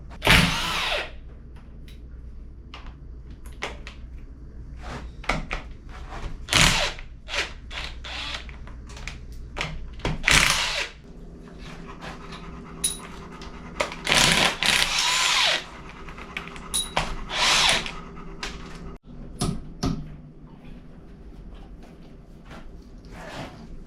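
A power tool works on a four-bolt-main small block Chevy teardown, loosening bolts to pull the cylinder heads, in loud, repeated whirring bursts with ratcheting clicks and short pauses of quieter shop sound between them.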